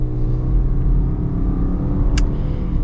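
A 2024 Subaru Outback Touring with its non-turbo engine accelerating hard, a loud steady engine rumble and road drone building from inside the cabin for nearly three seconds.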